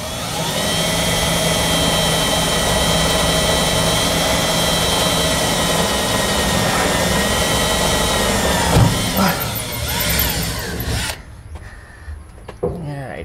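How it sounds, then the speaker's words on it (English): A power drill whines loudly and steadily while boring holes in the body of a rotten old 1956 VW Beetle, the pitch wavering under load before the drill stops and the sound drops away near the end. "Helps if I turn the drill the right way, right?"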